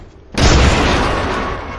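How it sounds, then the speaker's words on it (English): A grenade blows up in a shooter video game with a sudden loud, close boom that stays full and rumbling, fading only slightly over the next second and a half. "Grenade deployed. Grenade flung."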